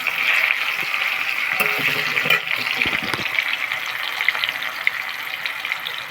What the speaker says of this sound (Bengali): টমেটোটা একটু ভালো করে একটু ভাজবো